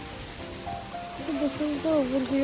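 Rain falling at the Beatles Ashram in Rishikesh, Uttarakhand, a soft continuous hiss of drops in the background while someone talks over it.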